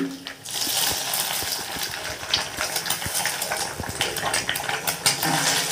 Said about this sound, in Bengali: এবার এইগুলো এইভাবে নাড়াচাড়া করে আমি লাল করে নেব।